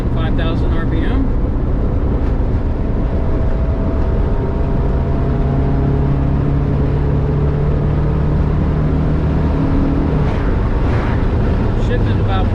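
A Honda K24A engine fitted in a VW Vanagon revs to about 5,000 RPM, a loud, steady drone with wind and road roar inside the cabin, and someone talks over it.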